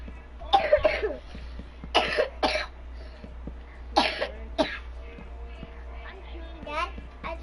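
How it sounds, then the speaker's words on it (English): A 4-year-old boy gives several short coughs in separate bursts over a steady low hum, with a voice speaking between them. "Dad, I just coughed"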